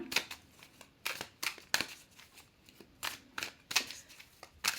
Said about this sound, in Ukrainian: Мішаємо карти.